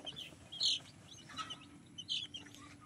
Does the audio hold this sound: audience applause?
no